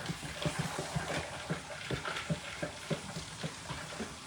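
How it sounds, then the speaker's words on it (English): Sweet tea being stirred in a pitcher, a regular rhythm of soft clinking and swishing strokes, fairly close and quiet, with no talking. "But this is wonderful for stirring."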